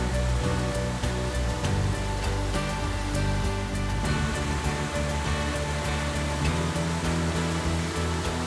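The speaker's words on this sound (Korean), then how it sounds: "듣기만 해도 몸을 담근 듯 벌써 시원해지는 물소리." The wide, low Venta Rumba waterfall in Latvia, the broadest in Europe, sends out a loud, continuous roar of rushing water, steady and dense throughout.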